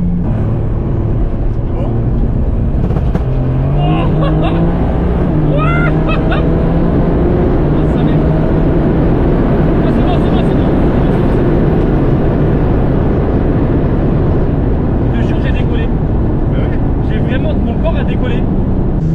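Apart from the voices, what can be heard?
850 hp BMW E36 engine revving with rolling anti-lag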